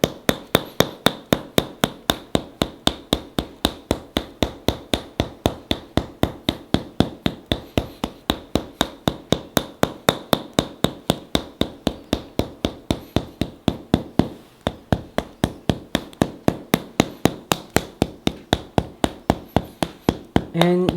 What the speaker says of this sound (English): the toxin massage, the hammer massage